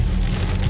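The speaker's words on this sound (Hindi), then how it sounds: "लगातार भारी वर्षा हो रही है" Dense, steady monsoon rain pouring onto a surface in the mountains, a constant loud wash of drops with no voices.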